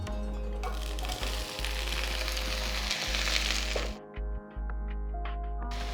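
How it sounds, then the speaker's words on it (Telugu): Brinjal pieces sizzle steadily in a tablespoon of oil in a pan, a loud continuous fry with a steady low hum beneath, briefly interrupted near the end as the sound drops and returns. "నీళ్ళన్నీ బాగా ఇట్లా తీసేసి వంకాయల్ని ప్యాన్లో వేసేసుకుందాం"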